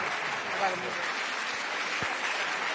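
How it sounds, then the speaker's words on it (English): Audience applause at the Bled Strategic Forum, a steady broadband patter of many hands clapping in a hall, sustained and even throughout without a break. "This is your applause"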